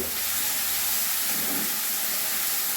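Masala of tomato, onion and ginger paste frying in oil in a pan for a Bengali fish curry, a continuous loud sizzling hiss that holds steady throughout with no talking.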